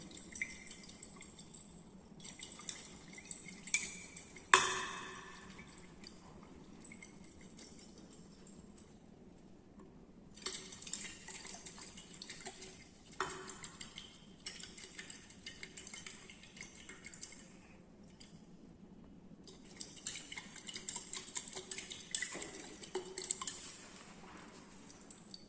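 Glassy clinks and scraping rattles come from a solution being stirred steadily in a glass flask while titrating a zinc oxide assay, in bursts separated by quieter pauses, with a faint steady hum underneath and no talking.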